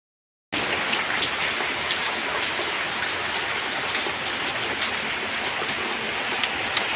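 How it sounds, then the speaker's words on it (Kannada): Rain falls steadily on a waterlogged farm garden, a dense, even patter with occasional louder drops, starting abruptly after a brief silence and continuing alone throughout. "ಮಳೆ ಬರ್ತಾ ಉಂಟಲ್ಲ"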